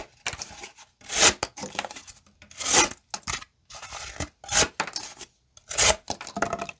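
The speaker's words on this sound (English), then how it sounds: "Let's try to get through some cardboard." A Civivi Incindie button-lock folding knife saws through cardboard in repeated rasping strokes, with bursts of scraping and tearing separated by short pauses. The cutting is close and clear, with no voices.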